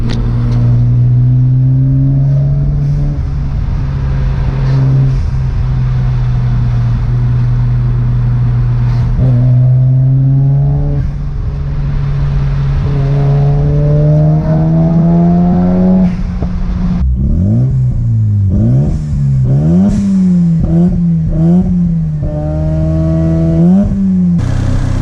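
A Mazda RX-7 FD with a suspected blown engine runs loud and close, holding a droning idle before revving up and down in repeated uneven bursts near the end.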